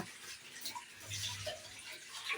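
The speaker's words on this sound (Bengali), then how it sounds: "এখন কেক বানাতে বানাতে যা যা জিনিসপত্র মানে নোংরা হয়েছে, এগুলো এখন সব পরিষ্কার করবে।" Dirty cake-making utensils are rinsed under running tap water at home, a faint, steady splashing and trickling with soft clinks, and no talking.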